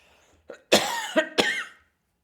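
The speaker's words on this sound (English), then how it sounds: "Sorry, I'm going to cough now." A few harsh, close coughs in quick succession, with a rough throaty quality and a short breathy lead-in.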